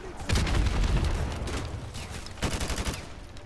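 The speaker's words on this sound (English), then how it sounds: "Okay, I didn't realize how powerful this gun sounds." Loud bursts of AK rifle fire in a shooter video game clatter in rapid volleys, a sustained stream at first and another burst near the end, with a voice faintly underneath.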